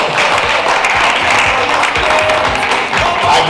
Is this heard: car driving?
no